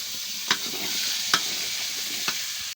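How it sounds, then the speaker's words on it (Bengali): Boiled soybean chunks and potato frying in a hot pan: a continuous close sizzle broken by three sharp spatula knocks against the pan, no voices. "লাল লাল করে ভেজে নিচ্ছি"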